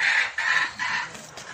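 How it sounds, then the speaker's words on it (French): Small hens cluck in three or four loud, close bursts with short gaps between them, while a family is out shopping at a garden store. "Arrêtez vos bruits les petites poules."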